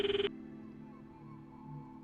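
A phone call ringing out after the call icon is tapped, a short burst of quick electronic trills that stops abruptly and leaves only a faint low hum.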